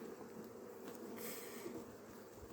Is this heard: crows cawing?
no